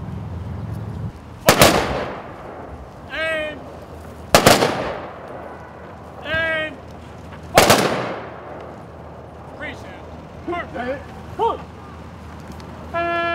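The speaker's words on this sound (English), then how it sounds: "we are about to have a firing salute" Rifles fire a salute at the General Maurice Rose monument dedication. Three loud, sharp volleys ring out a few seconds apart outdoors, each echoing away, with voices speaking between and after them.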